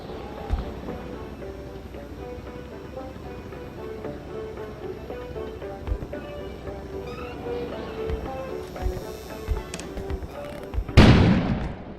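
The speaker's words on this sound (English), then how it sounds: "An explosion suddenly occurred outside." Soft music from the video game Kona with a few dull thuds plays, then a sudden loud explosion bursts out near the end and rumbles away.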